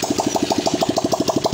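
A Honda XR150 motorcycle engine, just started after a carbon brush replacement, runs in a steady, rapid, loud putter close to the microphone, with no voices.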